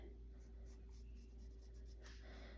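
A pencil sketches a pattern line on paper, giving soft, faint scratchy strokes in short repeated passes over a low steady room hum.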